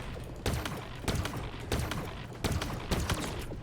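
Gunfire in the video game Halo Infinite, a series of repeated sharp bursts about every half second over a dense rumbling game soundscape, with no voices.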